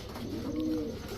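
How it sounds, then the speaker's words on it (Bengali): A male black pied racer pigeon, large in size, gives one drawn-out throaty coo, close and clear, rising and falling over about a second with no other voices. "এটা হচ্ছে একটা ব্ল্যাক পাইট রেসার, একটা নর কবুতর"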